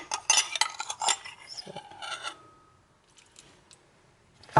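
Coconut almond milk being mixed as a homemade skin remedy: a spoon clinks and scrapes against a dish in quick bursts, then the sound trails off into near silence before a final sharp clatter.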